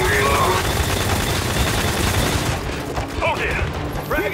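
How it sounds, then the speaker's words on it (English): Mechanical clicking and clacking of a weapon being reloaded in Gears 5 Horde mode, a quick ratcheting action amid loud ongoing gunfire and game noise, with brief voice callouts near the end. "Damaging reload!"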